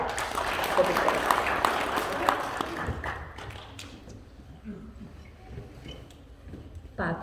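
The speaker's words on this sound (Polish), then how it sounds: "Duże brawa dla Maxa" Applause from an assembled crowd at a school pledge ceremony for first-graders, moderately loud in the first seconds and fading to scattered claps and murmuring after about three seconds.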